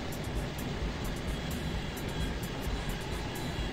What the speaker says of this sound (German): Weil er ein Flugzeug starten will, denke ich mal.